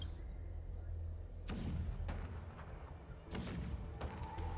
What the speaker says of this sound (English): you hear that? The rumble of the cannons.